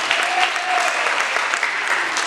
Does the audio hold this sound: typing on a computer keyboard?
no